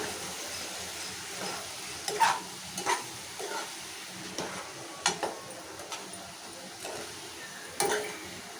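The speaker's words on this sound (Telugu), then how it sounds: "ఒకసారి కలుపుకుందాం మంచిగా" Ridge gourd curry is stirred in a pan, with a spoon scraping and knocking against the metal in a few distinct strokes over a faint steady sizzle. No one speaks.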